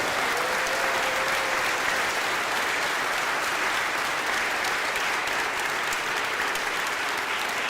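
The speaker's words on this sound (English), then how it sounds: "let's give another round of applause for Fred." Steady, sustained applause from the players and attendees at a community chamber orchestra rehearsal fills the room evenly from start to finish, with no talk over it.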